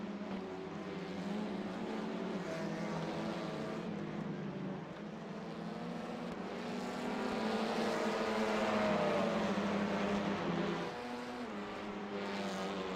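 Several TCR touring cars at Imola in a sim racing game hold a steady, loud engine drone throughout, with pitch shifts as the cars run close together in a battle for position.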